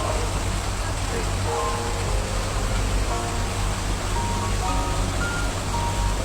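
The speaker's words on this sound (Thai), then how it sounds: "เป็นน้ำตกจำลองนะครับ" Flowing water from the artificial waterfall at Wat Pho temple makes a loud, steady rush that holds unbroken for the whole stretch, with faint tonal murmurs drifting in the background.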